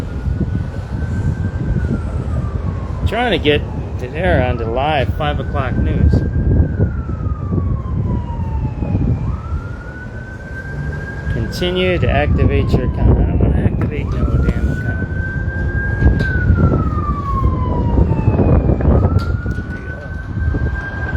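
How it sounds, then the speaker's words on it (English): Emergency vehicle sirens wail repeatedly in the distance in Chicago, rising and falling in long sweeps, while a radio voice and a nearby person talk over traffic noise. "Got the sirens in the back."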